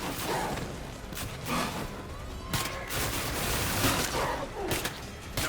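Gunfire in State of Decay 2, a zombie survival game: a rapid series of sharp shots and thumps spread across the clip, mixed with noisy scuffling, with a player's voice occasionally heard.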